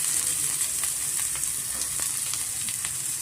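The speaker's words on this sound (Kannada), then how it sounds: "ಆನಿಯನ್ ಸೇರಿಸ್ಕೊತಾ ಇದ್ದೀನಿ." Chopped onion sizzles in hot oil in a pan with capsicum, a steady close crackling fry with scattered sharp pops throughout, no talking.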